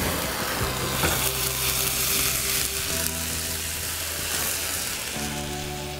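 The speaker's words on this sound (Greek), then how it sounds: "Σβήνω με το ούζο." Shrimp sizzle and fry loudly in a hot pan as ouzo is poured in to deglaze, a steady close hiss with occasional stirring clatter, no voices.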